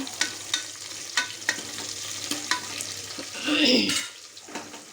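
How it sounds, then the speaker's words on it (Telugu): Curry leaves fry in hot oil with a steady close crackle and hiss, punctuated by regular sharp scrapes of a spoon, swelling into a louder bubbling burst near the end. "కరివేపాకు కానీ వేసుకున్నాను ఇవి కొద్దిగా వేగనిద్దాం"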